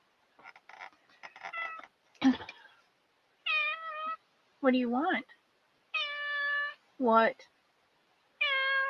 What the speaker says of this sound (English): Yep, you can hear my kitty.